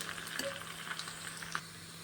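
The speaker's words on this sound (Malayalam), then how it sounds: "ഉള്ളിയൊക്കെ നല്ല മൊരിഞ്ഞുണ്ട് കേട്ടോ." Onions sizzle and fry in a pan, a soft, even crackle with a few small pops, quiet and steady with no talking.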